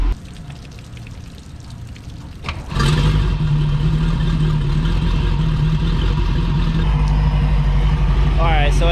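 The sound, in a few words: boat engine running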